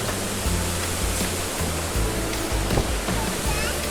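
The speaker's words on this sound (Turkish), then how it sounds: "Doğanın içerisinde gayet çok güzel bir şelale burası." A waterfall at Harbiye in Defne, Hatay, set in natural surroundings, pours out a steady, dense rushing roar, close and continuous, with a low rumble pulsing underneath and faint speech partly masked.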